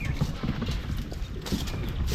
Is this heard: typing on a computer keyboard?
no